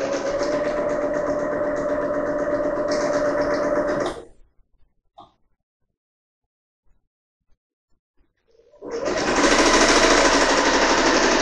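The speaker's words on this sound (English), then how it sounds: "When you reach the seam and you're ready to stitch through, make sure that both of the seams are pressed open before you stitch them." A sewing machine stitching a dress seam, loud and close, running in a steady whirring buzz, stopping for a few seconds of near silence with small clicks, then starting up again at full speed.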